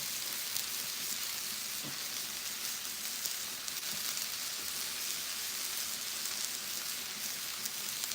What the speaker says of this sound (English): making Parmesan chicken, some's breaded, some's not. I've never done it on the grill before like this